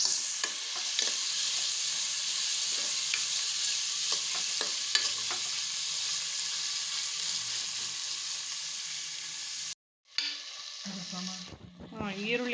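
Onions fry in oil in a pan while being stirred, a continuous close sizzle with scattered spoon scrapes, cut by a brief gap before the hiss resumes and a voice speaks at the end.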